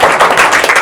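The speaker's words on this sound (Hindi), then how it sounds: "जाइए तालियां इनके लिए जोरदार" Students in a classroom giving a classmate a burst of loud, dense, close applause lasting under a second, with rapid overlapping claps and no voices.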